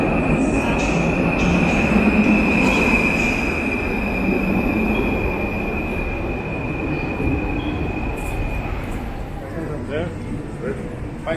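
Rumbling ride aboard a passenger train on rails through Warsaw, with a steady broadband roar, a sustained high wheel squeal through most of it and faint background voices.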